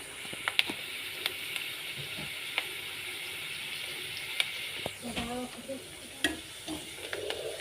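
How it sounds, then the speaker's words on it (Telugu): Onion tempering fries in a pan with a constant bright sizzle, broken by sharp clicks and scrapes of stirring, heard up close. "ఇవి కూడా వేగుతున్నాయి చూడండి. ఉల్లిగడ్డ తాలింపు వేసినా కదా నేను, నాకు మంచిగా వేగుతుంది."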